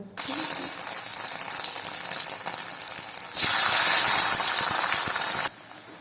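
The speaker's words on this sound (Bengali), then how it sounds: "কড়াইয়ে আমি এবার সাদা তেল গরম করে নিয়েছি, পনিরটা এবার আমি এতে ভেজে নেব" Paneer shallow-frying in hot white oil in a kadai, a steady close sizzle and hiss throughout that swells noticeably louder for a couple of seconds near the end before easing back.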